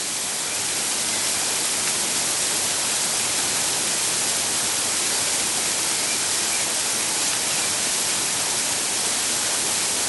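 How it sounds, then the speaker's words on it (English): A waterfall on a North York Moors country walk gives a constant, dense, hissing roar close by, unbroken for the whole stretch with no voices. "And this is right next to the waterfall, is this?"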